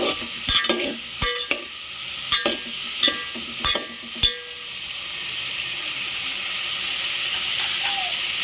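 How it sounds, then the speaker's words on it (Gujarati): Spices being stirred into hot oil with a spoon for a Gujarati cauliflower and potato curry: several sharp metallic scrapes and taps over a soft, steady sizzle that continues alone after the stirring stops. "ચમચાની મદદથી આ રીતના હલાવી નાખીશું. આવી રીતના આપણે તેલમાં મિક્સ કરી દેવાનું છે."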